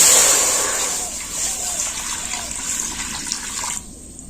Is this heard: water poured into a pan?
yes